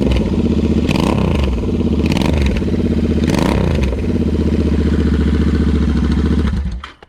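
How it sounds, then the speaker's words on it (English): Royal Enfield GT650 twin idling loud and close on a cold start through a Nuke Little Boy slip-on exhaust, a steady rumble with a few brief rises in revs before the engine shuts off near the end. "This is a cold start, by the way."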